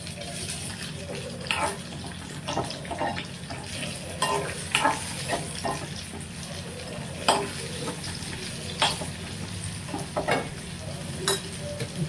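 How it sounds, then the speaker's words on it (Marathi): Onion and tomato sizzle and fry in a pan on a gas flame for boiled-egg bhurji, with steady hissing and repeated scraping stirs of a spatula throughout. "कांदा परतत आलेला आहे. आता याच्यामध्ये थोडं टोमॅटो टाकणार आहे म्हणजे ते थोडंसं परतलं पाहिजे आपल्याला."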